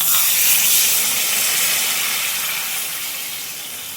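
Water hits a hot spiced pan of pointed gourd dolma, releasing a loud, steady hiss of steam that fades slightly over about four seconds, with no talking.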